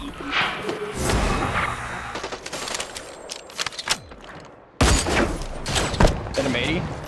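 Game gunfire from the sci-fi battle royale Hyper Scape, rapid bursts and sharp cracks in clusters, some near and loud, with a heavy burst after a brief drop, under a player talking.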